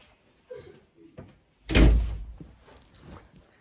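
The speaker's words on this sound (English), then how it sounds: "I'm also going to quick shut this door because my family's loud" A household door is shut with a loud, close thump after a few quieter handling knocks, followed by a short fading rattle in an otherwise quiet indoor room.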